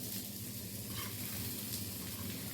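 Okra frying steadily in a pan with a dense, continuous sizzle, close and even in level throughout, with no one talking.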